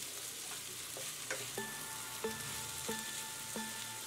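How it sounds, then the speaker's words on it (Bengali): Mixed vegetables such as carrot, beans and potato frying in a pan, a soft steady sizzle with a recurring light ringing tap every half second or so. "উঠিয়ে দিয়েও আবার আমি কিছুক্ষণ ভাজাটা হতে দেবো"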